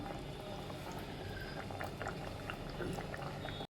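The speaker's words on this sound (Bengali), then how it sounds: "ঘিটা গলিয়ে নিলাম" Ghee melting and sizzling in a pan while cooking a Bengali dish, a faint, steady bubbling crackle with scattered small pops throughout, close with no talk.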